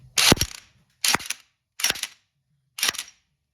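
Four short, sharp bursts of rattling hammering from a weaker impact wrench running a new bolt on an Africa Twin motorcycle during sprocket and chain work, each burst separated by a second or so of silence.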